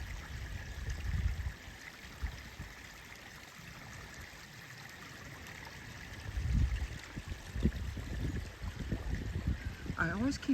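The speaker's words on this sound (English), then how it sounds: "that's the sound that you hear when you're sitting at the creek." A creek running high outdoors gives a soft, continuous rush and trickle of flowing water, fairly faint and steady, with occasional nearby rustling and low thumps.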